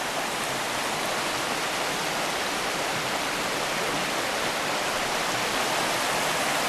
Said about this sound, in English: Here's another part of the stream.